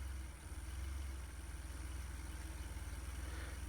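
DeLorean engine idling with its original cooling fans running, a steady low pulsing rumble with an even rhythmic throb and constant whirring above it, heard close and alone.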